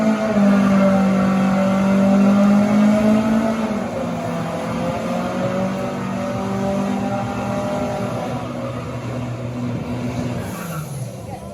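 A Zetec ST170-engined Mk2 Ford Escort drag racing a Cosworth-powered Ford Cortina at Santa Pod Raceway, engines roaring loud and sustained with rising revs, one car pulling hard then easing off near the end.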